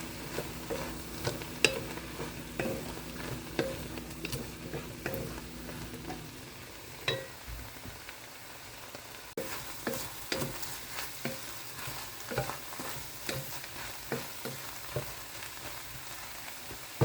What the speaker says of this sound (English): now that the peppers and onions are nice and soft and they got a little caramelized